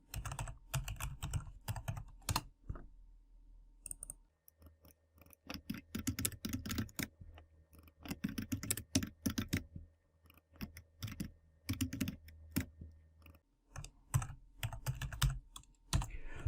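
Computer keyboard typing while renaming layers in Adobe Illustrator, close and dry, with quick irregular bursts of key clicks separated by short pauses and no voices.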